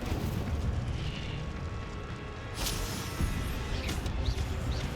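An Incendio fire spell in Hogwarts Legacy gives a loud, sustained roaring whoosh of flame, with a few brief bursts and pops riding on top.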